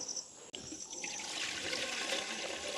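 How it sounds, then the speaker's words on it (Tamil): Water pours into a clay pot on a village hearth for a rice porridge, starting after a sharp click and running as a steady, close splashing stream. "இப்போ வந்து ஒரு சுண்ட அரிசிக்கு அளவாக நாங்கள் தண்ணி விடுவோம்"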